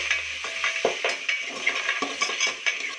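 Onions frying in a pan with turmeric and salt for pudina rice bath, a steady close sizzle under repeated scraping and clinking of a spoon stirring against the pan, no voices.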